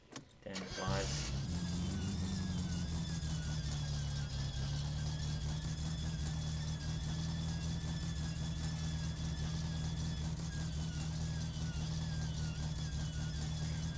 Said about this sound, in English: we're just going to let that idle for a little bit, let it warm up for a bit